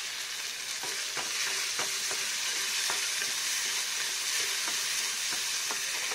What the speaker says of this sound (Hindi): अब इन मसालों को हमें प्याज टमाटर के साथ अच्छे से भूनना है, अच्छे से पकाना है मटर को और टमाटर को।